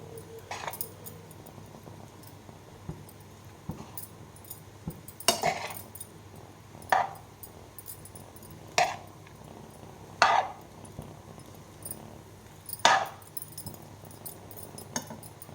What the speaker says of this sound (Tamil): இப்போ சிக்கனை சேர்த்து நல்லா மிக்ஸ் பண்ணி விட்டுக்கலாம்